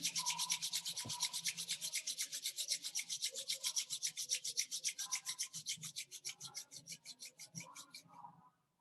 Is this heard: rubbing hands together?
yes